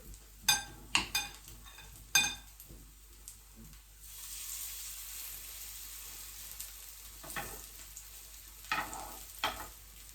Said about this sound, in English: And then fry in the pan